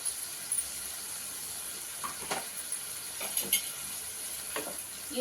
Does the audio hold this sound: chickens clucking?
no